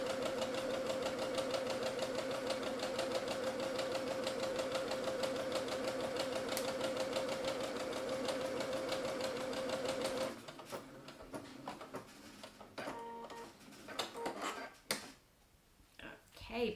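A sewing machine stitches fabric for a bow, a fast, steady mechanical whirr for about ten seconds. It then stops, leaving quieter handling clicks and rustles.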